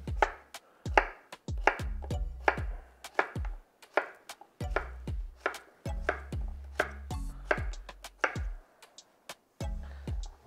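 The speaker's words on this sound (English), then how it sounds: "cut these in little bâtonnets" A knife chops potatoes on a cutting board, cutting them into bâtonnets and then cubes. The thuds come in a steady series of sharp, close knocks with brief pauses between bursts, and no one speaks.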